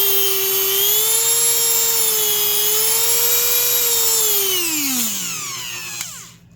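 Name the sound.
Dremel 4000 rotary tool running at 15,000 RPM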